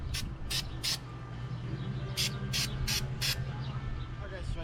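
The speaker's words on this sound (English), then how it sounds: "I'm going to go ahead and get this chain all sprayed down with the lithium grease now" Lithium grease sprayed onto a bike chain in a workshop, several short hissing bursts in two groups over a steady low background hum.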